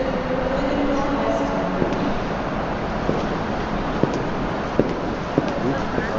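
Low rumbling station ambience with a steady mechanical hum and occasional sharp clicks and clanks, like a train idling or rolling nearby.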